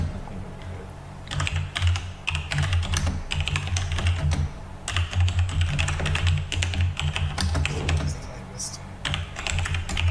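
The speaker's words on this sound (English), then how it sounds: "You can see how fast I'm typing." Fast typing on a computer keyboard during a Dungeons & Dragons 5th edition session on Fantasy Grounds: rapid, close clattering keystrokes in dense bursts that run almost the whole time over a low steady hum.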